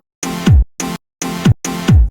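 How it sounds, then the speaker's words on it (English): Four saw-wave synth chord stabs from a pop track, short bright hits in a syncopated pattern, the longer ones ending in a downward pitch swoop, loud and heard alone. "you also hear these like chord stabs"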